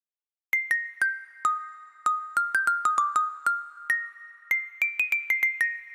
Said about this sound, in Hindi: तो पहले ये मैंने ज़ाइलोफ़ोन पर ही पैटर्न बनाया है